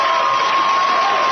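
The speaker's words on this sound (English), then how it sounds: "Look at the applause. They love it." Studio audience at a comedy roast breaking into steady applause mixed with cheers, a dense continuous wash of crowd noise carrying on loud and unbroken with no talk over it.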